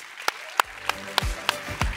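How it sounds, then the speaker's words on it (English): Faint, sparse clapping from an audience at a product strategy conference: about six distinct claps spaced evenly a third of a second apart over a low background hum. "Give him an applause"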